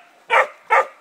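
Two sharp, loud dog barks about half a second apart, close by, from a white dog out on a mountain bore outing.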